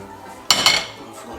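A metal lid is set onto a saucepan in a home kitchen, making two quick, close clanks in rapid succession, followed by quiet room tone.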